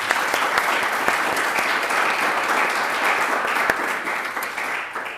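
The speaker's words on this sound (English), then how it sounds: "Perhaps a big round of applause" An audience at the close of a conference event on human-centred disarmament gives the presenters a sustained round of applause, dense, even and fairly loud throughout.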